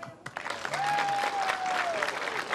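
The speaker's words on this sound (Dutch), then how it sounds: "Even een applaus voor Els" An audience in Kollum applauds, steady clapping building after a brief quieter start, with a faint sustained tone drifting above it and scattered voices underneath.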